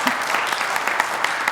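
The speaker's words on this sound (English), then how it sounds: "Feel free to clap or not clap." Scattered applause at a city council regular meeting, a modest crowd clapping steadily at moderate distance for a brief moment, with no talk over it.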